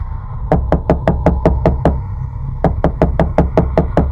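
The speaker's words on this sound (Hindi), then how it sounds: "नींद में जाने ही वाली थी कि दरवाजा खट खट खट की आवाज से चौंक गई।" Knocking on a door for a horror story: two quick series of sharp, evenly spaced raps, about seven in each run with a short pause between, close and distinct over a low background hum.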